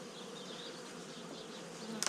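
Bees buzzing inside a hive box after a bee escape was fitted, a steady close droning hum that holds throughout the short stretch.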